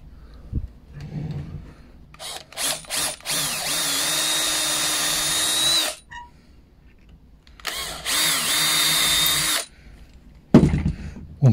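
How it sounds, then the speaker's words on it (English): A power drill whirs in two sustained bursts with a few short trigger pulses before, close and loud, biting into a wooden chair. "I'll drill a couple of holes"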